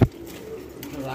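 A fancy pigeon gives a brief, low coo close by, with a sharp thump at the start and a person talking over it.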